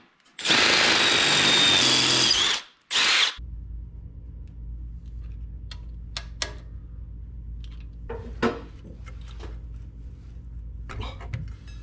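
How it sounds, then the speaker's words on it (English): A power drill with a 1/2 inch bit runs loudly at close range for about two seconds, stops briefly and spins up again, then gives way to quiet workshop clatter and faint tool knocks over a low background hum. "1/2 inch drill bit."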